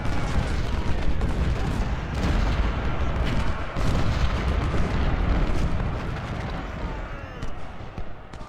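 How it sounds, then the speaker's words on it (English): Musket volleys in Ultimate General: Civil War, set in a Confederate campaign at Fredericksburg, roll out as a dense, continuous crackle of massed rifle fire with booming bursts, loud and steady throughout with no pause. "Volley from Kennedy and Benjamin"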